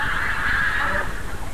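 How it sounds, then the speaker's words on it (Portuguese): Canada geese honk loudly and continuously for over a second, a dense overlapping chorus of nasal calls close by with no talking. "os gansos canadenses vêm aí"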